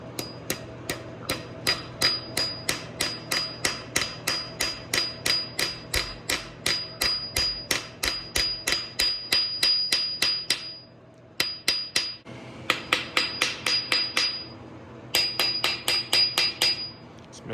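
Steady run of sharp metallic hammer taps on an engine part of a 1990 Nissan 300ZX during head and oil pan installation, each strike ringing brightly, with a brief pause and then quicker bursts of taps, close and alone.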